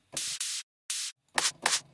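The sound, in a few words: white-noise snare drum sample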